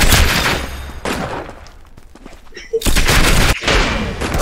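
Loud, close gunfire bursts in the online shooter game Arsenal during a rifle and pistol firefight, with rapid volleys of shots, a short lull with scattered distant pops, then more heavy firing.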